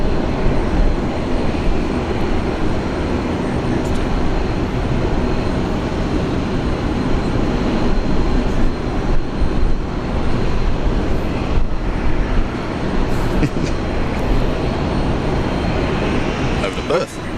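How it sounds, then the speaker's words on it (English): A Qantas Boeing 737-800 airliner lines up on the runway at Brisbane Airport, its engines giving a loud, steady broadband roar throughout, with people talking nearby. "737-800 Qantas lined up."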